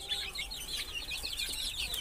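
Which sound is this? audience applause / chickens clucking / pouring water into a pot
chickens clucking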